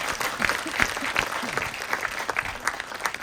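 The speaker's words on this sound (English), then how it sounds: "let's give her another round of applause into her orbit" Audience applause at a 2023 astronomy slam in a university planetarium, a lively patter of clapping with sharper individual claps and some faint voices mixed in, moderately loud and continuous.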